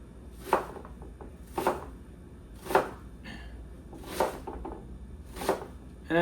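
Knife chopping a red onion on a board, five distinct crisp cuts spaced about a second apart, close and clear over quiet kitchen background.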